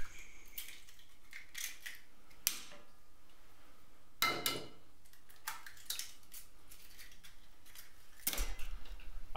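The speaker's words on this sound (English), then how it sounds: "and whisk until combined" A whisk scrapes and clicks through a bowl of milk, brown sugar, melted butter and eggs for plum bread, in scattered quick bursts with pauses, close and fairly quiet.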